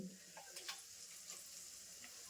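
Ground masala paste hits a hot pan and sets off a faint, soft sizzle with a few light crackles and pops, heard quietly and alone.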